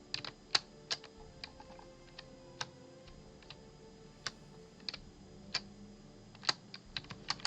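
Computer keyboard typing: scattered sharp key clicks, some singly and some in quick bursts, close and crisp over a quiet background with no talking.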